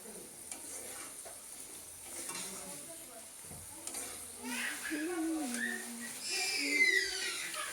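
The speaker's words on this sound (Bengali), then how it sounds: "এখানে করছি আমি আলু ভাজা।" Potatoes frying in a pan on a home kitchen stove, a moderate sizzle with stirring scrapes that grows louder toward the end, with faint voices in the background.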